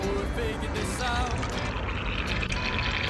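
Water splashes and pours over an air strut fitting on a Porsche Panamera Turbo during a leak test, a continuous close, bubbling pour with a few brief tonal squeaks and no talk.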